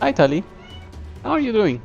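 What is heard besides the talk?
pet cat Tali meowing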